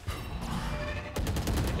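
Rapid sustained fire from an Odin machine gun in the video game Valorant during a competitive match, a dense continuous rattle with a sharper burst near the end.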